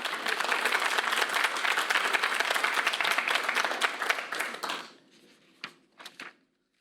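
An audience listening to a Joyce Meyer sermon breaks into dense, sustained applause that fades out after about five seconds, leaving a few scattered, isolated claps before quiet.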